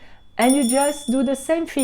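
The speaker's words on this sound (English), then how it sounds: "There is another way that you can do that, is with a small bell." A small bell rings with a thin, sustained tone that carries under a person talking steadily throughout.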